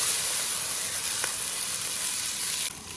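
Water poured into hot oil with fried bean paste and chopped scallion and dried chili in a wok, a loud steady sizzle that drops suddenly near the end.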